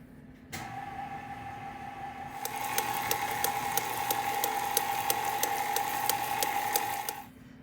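An electric mixer whirring as flour is worked into brown butter chocolate chip cookie dough, a steady high motor hum with rapid rhythmic clicking, starting after a short pause and stopping near the end.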